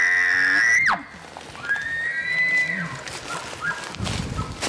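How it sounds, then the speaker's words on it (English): A bull elk bugles up close in elk-hunting country, a loud high whistling scream that slides down, followed by further fainter whistles and grunts amid rustling. "He screamed and came walking right up and bugled up right in our face"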